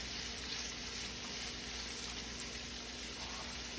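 Bacon sizzles and spatters in a pan for a green bean casserole, a steady, dense frying hiss that stays even and fairly close throughout, with no voices over it.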